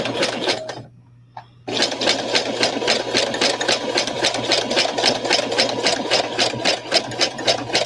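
A sewing machine running with no bobbin, a fast steady mechanical whirring and clatter at close range that pauses briefly once, then resumes its even rhythm.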